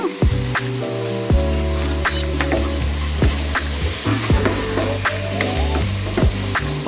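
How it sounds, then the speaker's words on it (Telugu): Onions, green chilies and curry leaves sizzle steadily in hot oil in a pan, with repeated sharp scraping stirs of a spoon breaking through the constant frying hiss, close and loud. "ఉల్లిపాయ, పచ్చిమిరపకాయ, కరివేపాకు వేగాయండి."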